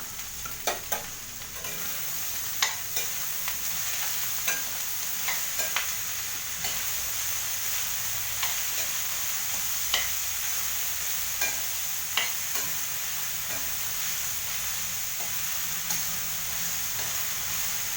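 Grated mixed vegetables with beetroot and potato stirred in a pan, with repeated scraping and clinking spoon strokes over a constant close sizzle.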